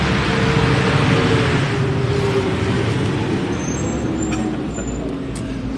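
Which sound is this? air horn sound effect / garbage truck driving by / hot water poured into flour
garbage truck driving by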